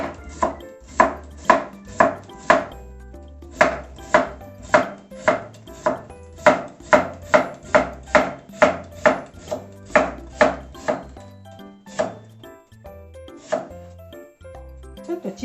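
A knife julienning cucumber on a cutting board for a cucumber and chikuwa dish, a long run of crisp, close chopping taps in quick irregular bursts with short pauses between.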